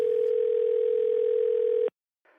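A steady telephone dial tone sounds loudly and alone for almost two seconds while a call is placed, then cuts off abruptly, leaving brief silence and a faint trailing noise.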